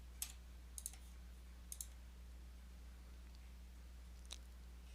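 Faint, crisp mouse clicks, a few in quick doubles, spaced over a constant low electrical hum while navigating reporting software.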